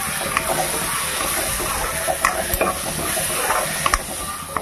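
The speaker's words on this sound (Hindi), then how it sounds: "खड़ी मसाला, गरम मसाला, हल्दी, मिर्चा सब कुछ अब मिक्स करने लगा।" Spices being stirred in a hot pan for egg curry, including whole spices, garam masala, turmeric and chilli. A spoon scrapes and clinks repeatedly over a constant loud sizzle.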